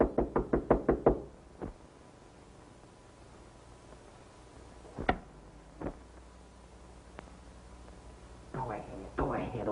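Rapid knocking on a door, five quick raps at the start and a later burst of knocks, with a few isolated thuds between and a voice speaking faintly in an old 1933 film soundtrack.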